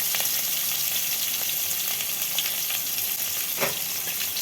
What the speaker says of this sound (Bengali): সেই তেলের মধ্যে এবার আমি দিয়ে দেবো কেটে রাখা পেঁয়াজ